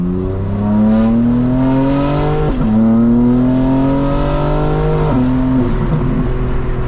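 A loud 2025 BMW M4 Competition engine revs up repeatedly, pitch climbing with each gear before dropping sharply at shifts, close and aggressive.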